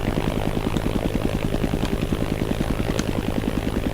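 Helicopter rotors and engine lifting off in the video game ArmA: Armed Assault, a loud, steady, rapid thumping whirr with a constant engine drone underneath, no talk.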